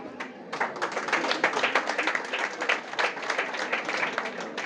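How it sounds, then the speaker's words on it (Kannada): An audience at a ticket launch ceremony for a Tulu film applauds, with dense, steady clapping that continues throughout, close and lively, with no speech over it. "ಮಲ್ಲ ಚಪ್ಪಾಳೆ"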